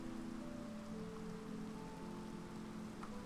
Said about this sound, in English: It's starting to rain.